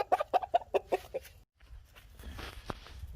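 A fighting rooster from Mianwali gives a close, rapid series of clucks, then a short silence and a low, noisy stretch of rustling and faint vocal sounds.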